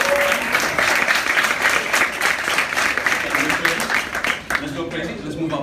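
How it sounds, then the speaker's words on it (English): A round of applause from an audience at a motivational speech event, loud sustained crowd clapping that continues for several seconds, with voices and cheering mixed in toward the end. "Can we give a round of applause for her, please?"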